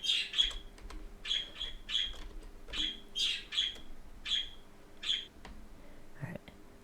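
A pet budgie chirps indoors in a regular series of sharp, high tweets spaced about half a second apart, fairly faint and close, over a low steady hum, with a soft whisper of a voice.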